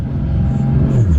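A 700+ horsepower JZ-swapped Lexus SC400 with straight pipes, giving a loud, deep, close engine rumble that swells slightly in a short burst, with no speech.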